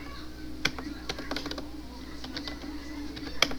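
Several scattered keystrokes on a computer keyboard as Python code is entered, light irregular taps close by over a steady low hum, with a couple of sharper clicks standing out.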